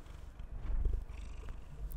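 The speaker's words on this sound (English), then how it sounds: "I'm gonna put on the microphone and see if you guys can hear him purring" A pet cat purrs close up, a steady low rumbling purr that continues throughout with no talking over it.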